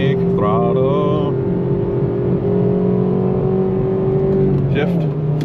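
A Honda Civic FG2 engine drones steadily under throttle on a highway, a loud, sustained tone with a rising pitch sweep near the start, heard from inside the car with a voice talking over it.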